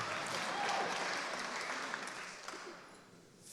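An audience at a City Year Boston opening day ceremony applauds an honoree, a dense, loud wash of clapping that gradually fades out, with a cheer or two near the end.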